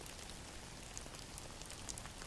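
Steady rain patters on a surface as a continuous, even hiss with scattered droplet ticks, close and moderately soft, with no voices.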